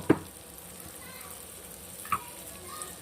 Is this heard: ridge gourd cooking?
yes